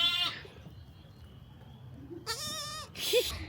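Baby goats and sheep on a farm bleat in a few short, nasal cries, one near the start and a louder pair later, over quiet background murmur.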